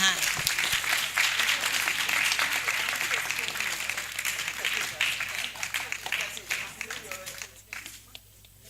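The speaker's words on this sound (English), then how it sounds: "Please, a round of applause for us." A conference audience applauds in a sustained, steady wash of clapping that gradually thins and trails off, with voices audible underneath.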